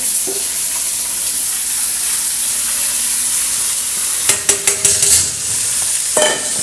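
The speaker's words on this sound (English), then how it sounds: "Now we're going to take our onions, celery, carrots, put them in there." Chopped onions, celery and carrots dropped into a pot holding a seared chuck roast, a loud constant sizzle with a burst of clattering knocks as the vegetables go in, then another brief clatter.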